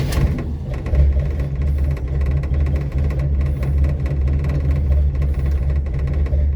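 A 1941 Plymouth P11 engine idles roughly and close by, a steady low rumble with uneven knocking pulses running throughout, no voices over it.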